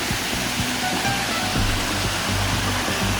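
A powerful waterfall in the Himalayas during the rainy season roars steadily, a dense, continuous rush of water close by with a deep low rumble underneath.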